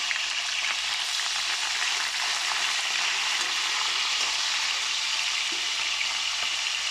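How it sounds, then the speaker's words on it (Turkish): Thin green peppers fry in plenty of hot oil in a home kitchen, giving a steady, close, bright sizzle and crackle throughout with no talking. "İncesi yeşilleri kızartayım."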